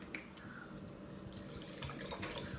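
Wine, Markovic Estates, poured into a glass: a quiet, continuous liquid trickle and splash lasting a couple of seconds, alone without talk.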